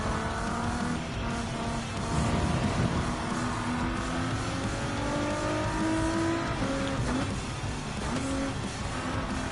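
Race cars in Gran Turismo 7 roar through a World Touring Car 800 race at Circuit de Spa-Francorchamps, with steady layered engine whine rising and falling as cars overtake, plus brief tire squeal, loud and continuous throughout.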